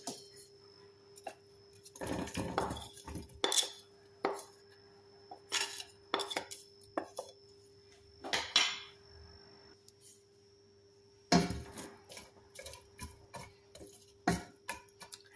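Carrot, chili pepper and onion, chopped small, stirred in a pot: scattered scraping and clinking taps of a utensil against the pot, irregular bursts with pauses, close and alone, no talking.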